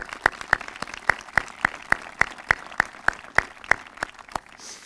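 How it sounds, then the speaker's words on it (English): A crowd at a veterans memorial dedication ceremony in Andover, Minnesota claps in a steady, sparse rhythm of distinct, moderately faint hand claps with no voices. "Let's give them a round of applause"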